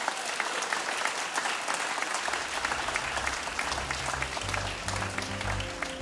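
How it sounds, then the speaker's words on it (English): Audience applause fills a live fintech news podcast recording, a steady dense wash of clapping lasting throughout, with low music swelling in underneath toward the end. "Give them a big round of applause."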